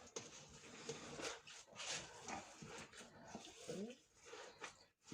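A dog whimpers and whines with excitement in a kitchen while ground beef is being mixed, the thin whines coming repeatedly and fairly close amid background clatter, with a person talking over them.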